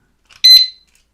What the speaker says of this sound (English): it gave us a beep. That's a warning because we touched it